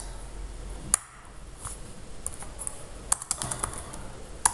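Rapid clacking of computer keyboard keys as Android code is typed, with uneven bursts of keystrokes and a few sharper taps over a quiet room background, no voices.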